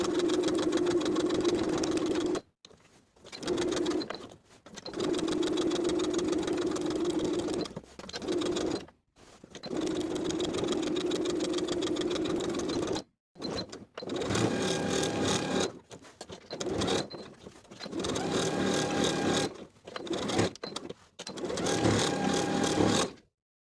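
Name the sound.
sewing machine topstitching pocket edges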